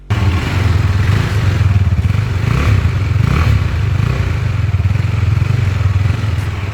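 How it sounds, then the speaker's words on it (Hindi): A KTM Duke 390 BS6 motorcycle idles and revs nearby, its exhaust note a steady, loud, throbbing single-cylinder drone with small throttle blips that rise and fall throughout, no voices. "फटाफट आपको फिर प्यारा सा एग्जॉस्ट नोट दे देते हैं"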